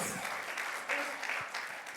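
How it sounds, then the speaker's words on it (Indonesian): Church congregation clapping during a Sunday worship service, a moderate, somewhat distant wash of applause with a few sharper claps and possible murmuring voices. "tepuk tangan"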